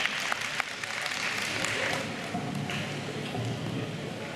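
Audience clapping at an International Day of Yoga celebration in Wellingborough, a steady broadband patter with a few sharper claps, some crowd murmur and a faint voice underneath, moderately quiet and continuous throughout.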